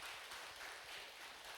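A church congregation applauds during a Korean Sunday worship service, a faint but steady wash of many hands clapping together without a break.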